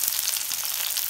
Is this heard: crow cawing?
no